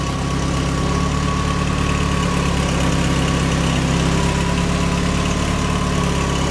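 A Mazda Miata engine fitted in a kart idles steadily through its exhaust, a loud, continuous low rumble with no talking over it.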